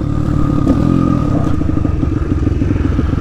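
A YCF pit bike's small motorcycle engine runs loud and close, with a rapid pulsing rev and a slight mechanical clatter throughout.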